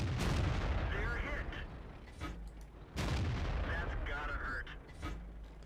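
Tank cannon fire booms through a World of Tanks battle, two heavy blasts about three seconds apart over a constant rumble of engines and combat, with someone commentating over the top.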